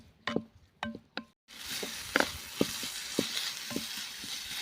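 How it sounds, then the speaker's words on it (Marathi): Tomato and onion sauté in a pan over a wood-fired stove, with a steady crackling sizzle and a few sharp spoon knocks against the pan. A short silent gap comes before the frying continues. "टोमॅटो देखील आपल्याला चांगला मऊसूद होईपर्यंत परतून घ्यायचा आहे"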